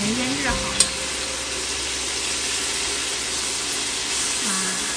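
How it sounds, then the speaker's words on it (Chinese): Store-bought marinated chicken breast fries in a new aluminium pan with a broad, even sizzle, close and steady throughout, with a brief knock near the start and faint voices in the background. "在这边煎鸡胸肉是吧？"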